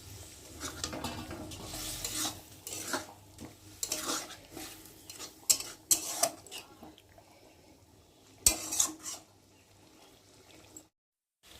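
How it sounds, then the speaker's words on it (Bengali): Water being stirred into an egg curry gravy in a pan: soft sloshing and spoon scrapes against the pan come in uneven bursts over a faint simmer, with a few sharper metallic knocks, then a brief silence at the end. "জলটা একটু ভালো করে নেড়ে নেব।"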